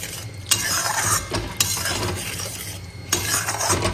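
Fish frying in plenty of oil in a pan while being stirred, a constant sizzle with a few sharp scrapes and clinks of a utensil against the pan, no talking.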